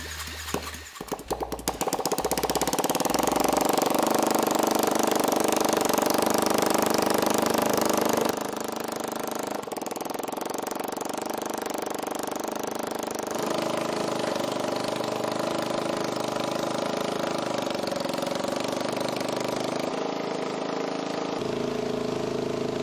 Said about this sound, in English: We got spark, so we should be able to fire it up now.